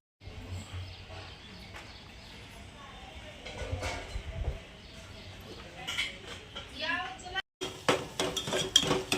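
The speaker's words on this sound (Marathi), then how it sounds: "5 मिनटं व्यवस्थित हलवून घ्यायचं बघा" Potato curry being stirred in a pot, with a spoon clinking and scraping against metal in an irregular rhythm, loudest near the end after a brief silent gap; soft background noise fills the rest.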